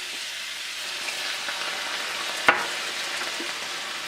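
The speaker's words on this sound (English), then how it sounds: "We'll just let this cook as we're stir frying it." Steady sizzling and frying from a hot pan of chicken and broccoli stir fry with soy sauce, fish oil and oyster sauce, a continuous crackling hiss with one brief sharp clink partway through.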